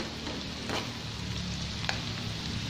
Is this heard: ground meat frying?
yes